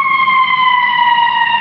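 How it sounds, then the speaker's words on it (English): Ambulance siren wailing steadily and loudly, a sustained high tone with harmonics that drifts slightly in pitch, heard over a phone call with no other sound around it. "Sorry, there's an ambulance in the background."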